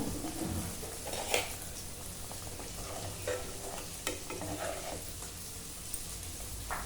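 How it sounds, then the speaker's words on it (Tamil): Prawns fry in a pan for a homemade Sri Lankan Tamil prawn curry meal, giving a steady close sizzle and crackle with occasional stirring scrapes throughout, and no talking. "ரால் பொரிச்சுக்கிட்டு இருக்கோம்."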